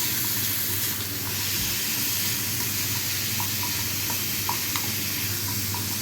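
Soup simmering in a pot with carrots, tomatoes, onions, spices and orzo, stirred steadily with a soft continuous sizzle and hiss, plus a few faint clinks of the spoon against the pot.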